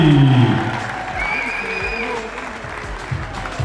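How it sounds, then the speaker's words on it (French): Crowd applause at the P2 Bordeaux professional padel tournament, clapping that fades under a nearby voice speaking briefly at the start. "Bordeaux, applaudissements pour la troupe de Suzy."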